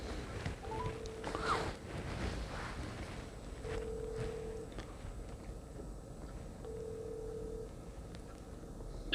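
A telephone call is placed: short dial tones sound three times at a steady pace, quiet against low background noise.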